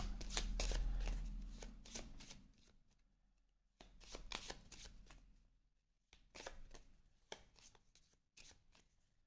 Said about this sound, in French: je vais remélanger toutes les cartes qui sont là